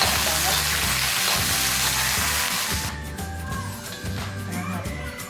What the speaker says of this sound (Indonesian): Ini digoreng sampai setengah matang aja, nggak usah sampai matang-matang banget.